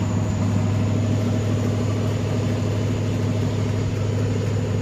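An abandoned 1978 Chevrolet C10, its exhaust missing and burning blue smoke, idles steadily with a loud, continuous low rumble and an even, unchanging rhythm.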